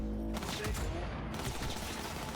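Gunfire rings out in the video game Cyberpunk 2077 during a headshot, a loud, dense and continuous burst of shots that fills the whole moment.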